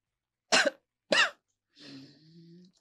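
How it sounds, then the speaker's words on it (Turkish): Two sharp, loud coughs about half a second apart, followed by a drawn-out groaning, wheezy exhale. "Öksür."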